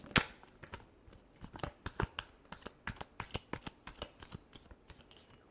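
Tarot cards being shuffled by hand, a steady run of crisp riffling slaps and flutters close by, with no talk over them.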